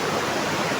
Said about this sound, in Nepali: कस्तो कराउँदैछ खोला